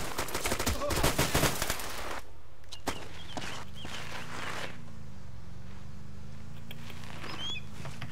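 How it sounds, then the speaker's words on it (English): Gunfire in the Arma 2 military game, a rapid cluster of loud shots at the start, then scattered single cracks over a steady low rumble. "We're getting shot at."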